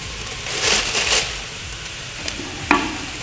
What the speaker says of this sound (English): you can hear that liquid nitrogen boiling from the heat from the room